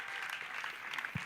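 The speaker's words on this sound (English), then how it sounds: "A big applause to Auntie Purna." An evening program audience claps for an organizer, a dense, steady patter of many hands held at moderate volume through the short stretch, with no voices rising above it.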